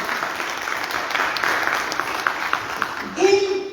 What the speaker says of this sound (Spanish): Un aplauso para la empresa de la Radio de la Vida.